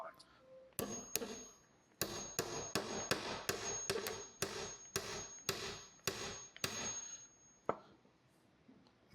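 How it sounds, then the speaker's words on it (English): A hammer strikes a 1/4 by 3 inch dowel pin into a jig on a table, a run of about a dozen sharp, close, evenly spaced blows, some with a ringing metallic tone. "we're going to hammer this in until we can't hammer any further"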